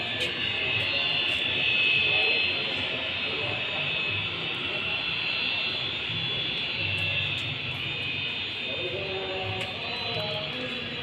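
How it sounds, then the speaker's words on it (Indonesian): Broad steady jet engine roar from a Boeing 737-200 of an air force, taxiing on the ground, fairly constant and moderately loud with a faint high whine throughout, with a person talking over it. "itu suara mesin"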